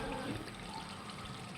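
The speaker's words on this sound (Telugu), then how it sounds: "కొంచెం కారం వేసి కొంచెం వాటర్ వేసి" Water poured from close by into a pot of cooked chicken curry seasoned with chili powder, a faint, brief splash and trickle.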